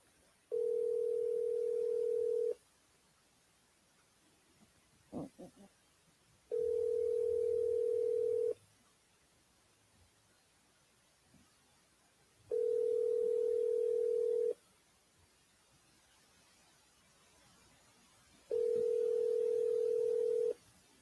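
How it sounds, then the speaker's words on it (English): A telephone ringback tone sounds while a call is placed, four evenly spaced long steady tones about four seconds apart, clear and alone with a few faint clicks between rings. "Making a phone call."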